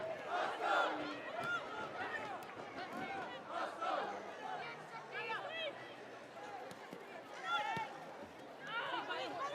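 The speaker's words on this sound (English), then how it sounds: "there was a loud cheer inside Meadow Park" Spectators at a women's FA Cup football match between Arsenal and London City Lionesses at Meadow Park raise a broad, distant crowd cheer that swells and holds, with voices and babble mixed in.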